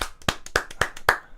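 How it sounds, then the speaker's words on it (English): Several sharp hand claps at an uneven pace, a quick burst of about six or seven close, loud claps from a small group with no voices over them. "We applaud you on that."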